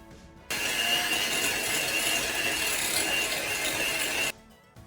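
An electric mixer creams 375 grams of softened butter, running as a steady, loud, close whir with a grinding texture for about four seconds, then cutting off abruptly; no one talks.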